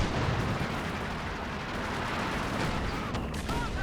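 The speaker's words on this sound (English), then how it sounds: "Greyhound firing away from the flank" A Greyhound armored car fires in a Company of Heroes 2 battle, producing a dense, continuous roar of gunfire and blasts that fills the whole stretch loudly without pause.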